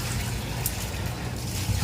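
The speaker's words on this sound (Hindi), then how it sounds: "अब देखो कूलर में पानी भर रही है।" Water pours steadily into an air cooler, making a continuous close, loud rushing splash with no break throughout.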